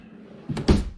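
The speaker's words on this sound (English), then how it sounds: "drawers have ball bearing drawer guides that allows for full extension" A ball-bearing drawer glide in a tiny house park model kitchen gives a brief sliding rumble followed by a solid close thunk, heard close up with no talking.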